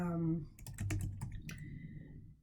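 Brief, light tapping of keys on a computer keyboard, a quick cluster of soft clicks under a low room hum.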